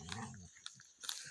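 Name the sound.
two dogs fighting in a mango garden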